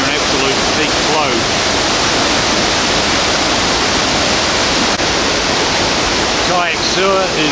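Powerful waterfalls on the Tayicsua trail on the Bolaven Plateau, at peak flow after a late rainy season, roar as a dense, steady wash of falling water that fills the whole scene, with brief faint bird calls near the end.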